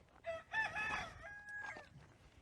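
A rooster crows nearby, one drawn-out cock-a-doodle-doo with a rising and falling strained call lasting about two seconds, moderately loud against a quiet outdoor background.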